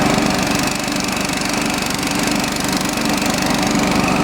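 A pneumatic air impact wrench hammers on a large nut, producing a loud, close, continuous rapid rattle of blows that holds steady for several seconds without any voices.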